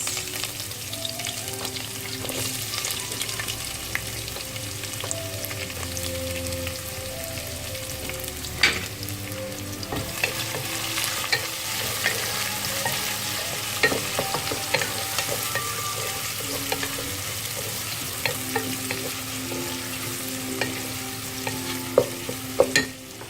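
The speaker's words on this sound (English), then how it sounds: "As you can see, it's really spluttering" Curry leaves and onions sputter and fry in hot oil for a Sri Lankan chicken curry, giving a loud, steady crackling sizzle with scattered pops and occasional stirring clatter throughout.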